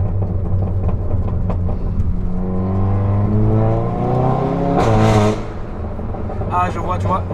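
A tuned Cupra's engine revs while driving, a loud close rumble with rising and falling pitch and a sharp burst of noise near the end, with people talking over it inside the car.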